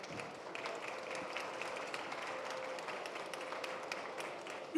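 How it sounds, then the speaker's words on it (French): Audience applause in a trade show television studio after a panel segment on dying timber and its valorisation, a steady dense clapping that stays fairly quiet and even from start to finish. "Vous pouvez applaudir."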